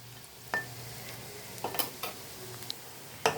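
Sapla water lily flower fritters fry quietly in hot oil, a soft, steady sizzle close by with occasional utensil clinks and scrapes against the pan as they are stirred.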